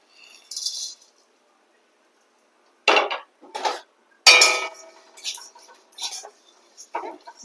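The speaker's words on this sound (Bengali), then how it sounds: "আর এবারে আমি শুকনো খোলায় সবগুলো ভেজে নেব।" Whole spices such as cumin, nutmeg, mace, cardamom, cinnamon, cloves, peppercorns, chillies and coriander rattle and scrape in a dry pan for chicken biryani, heard as short separated bursts of stirring between silent gaps.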